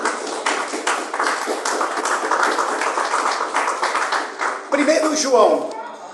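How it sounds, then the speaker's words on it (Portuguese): Congregation in a church service clapping steadily together, a dense rhythmic wash of hand claps filling the room, with a short burst of voices and louder activity near the end. "Palmas para o Senhor Jesus, amado"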